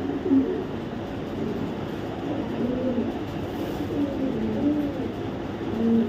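A male pigeon from a BRPL club coos in soft, repeated low throaty phrases, close by over a continuous background hum.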